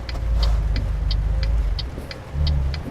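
A Volvo truck's engine drones low and steady while the truck drives in the video game Euro Truck Simulator 2, with light regular ticking above it.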